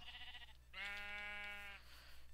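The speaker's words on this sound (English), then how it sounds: "Sheep." Sheep in Minecraft giving a single clear, wavering bleat of about a second, close and alone over a low steady background hum.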